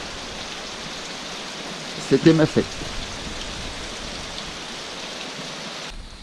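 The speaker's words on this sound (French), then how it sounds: "De la pluie, toujours de la pluie, encore de la pluie." Steady rain hiss fills the whole recording on the Camino de Santiago pilgrimage route, with a brief burst of speech partway through.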